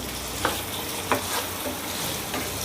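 Potatoes and onion are stirred and fried in a pan for a spiced aloo sem fali sabzi, giving a steady soft sizzle with a few distinct scraping strokes of the spoon, close and fairly quiet, with no talking.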